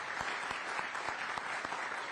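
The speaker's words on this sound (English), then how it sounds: "Can I get a round of applause for them, please?" A crowd claps steadily for school staff at a graduation ceremony, dense sustained applause with a few sharper individual claps standing out, fairly close and without talk.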